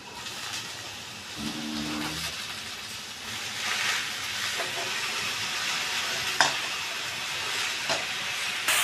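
Washed spinach greens hitting a hot pan, giving a broad, steamy hissing sizzle that swells and holds, with a few clinks and stirring knocks along the way.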